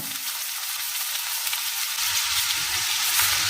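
Chopped onions and slit green chilies fry in hot oil for an egg and drumstick-leaf stir-fry, giving a steady, close sizzle that swells slightly louder partway through, with no voices.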